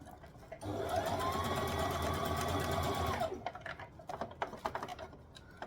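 Sewing machine stitching a dress close to the elastic underneath, a steady whirring run of about two and a half seconds up close, followed by a few scattered clicks and handling taps.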